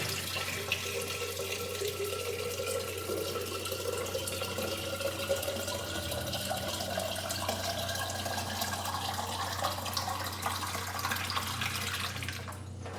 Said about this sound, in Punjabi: ਹੁਣ ਆਪਾਂ ਪਾਉਣਾ ਦੇ ਵਿੱਚ ਠੰਡਾ ਪਾਣੀ